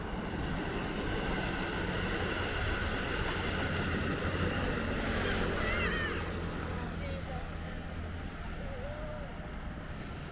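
A train rumbles steadily past at close range at Miyanosaka Station in Hirakata, Osaka, with a low continuous roar and a brief high squeal of wheels partway through.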